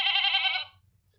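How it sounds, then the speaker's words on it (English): A goat gives a single clear, wavering bleat that lasts under a second and then fades, close and alone over a quiet background. "This is a goat."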